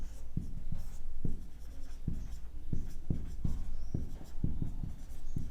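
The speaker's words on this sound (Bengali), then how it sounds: "এবার আমরা লিখছি" Chalk or marker tapping and scraping on a board during a maths lesson, a steady run of about a dozen sharp strokes with a low hum underneath.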